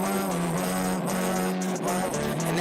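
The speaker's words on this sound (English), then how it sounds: "and then I put the distortion pedal on, and I made it sound like this." A melody recorded through a distortion pedal, thick and saturated with a steady buzzing harmonic drone, played continuously and loud for a few seconds with no voices.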